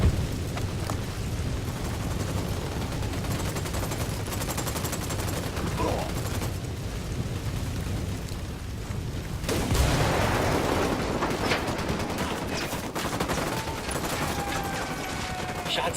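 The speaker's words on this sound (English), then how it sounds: "Shots fired." Gunfire in the video game Ghost Recon Wildlands, dense bursts of rapid shots and booming blasts rolling on without a break. Game voices talk over the shooting.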